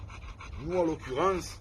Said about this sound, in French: Aujourd'hui, en l'occurrence, c'est un American Bully, un chien très adorable avec les enfants